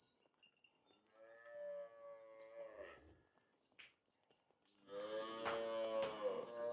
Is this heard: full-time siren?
no